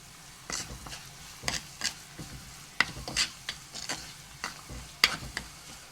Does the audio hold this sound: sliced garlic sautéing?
yes